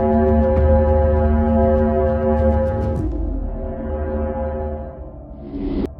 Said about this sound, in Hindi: इसकी आवाज़ को पहली बार नासा के पार्कर सोलर प्रोब मिशन के दौरान रिकॉर्ड किया गया था और इसकी आवाज़ कुछ ऐसी है